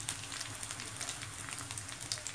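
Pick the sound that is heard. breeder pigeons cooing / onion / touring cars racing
onion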